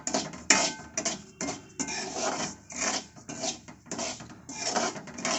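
Semolina is dry-roasted in a pan over a low flame, with a spoon scraping and stirring it in steady repeated rasping strokes, close by and fairly loud, with no voices.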